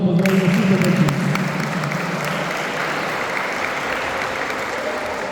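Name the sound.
applause for the children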